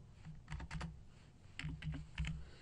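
Fingers typing on a computer keyboard, a few quiet bursts of clicky keystrokes in short clusters with pauses between them, close and alone.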